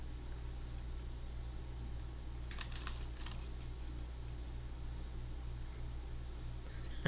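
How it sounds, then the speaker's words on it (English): Pet lizard walking across computer keyboard keys, making a brief burst of light, irregular clicking taps over a steady low electrical hum, faint and close. "Are you assuming dominance over my keyboard, Peppy?"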